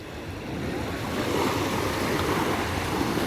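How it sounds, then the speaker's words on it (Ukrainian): Waves wash onto the beach at Durrës, Albania, as a continuous broadband rush that swells slightly over a few seconds, steady and fairly close, with no voices. "Щось на кшталт хвиль навіть є."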